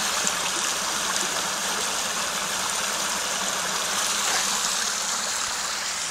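A clear stream flows steadily while water is collected from it into a half-liter bottle, a constant rushing trickle close by with no talking.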